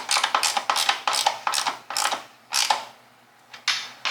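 A socket wrench ratchets on bolts of a K&S Hornet minibike, loud close rapid clicking in repeated short bursts with brief pauses between strokes.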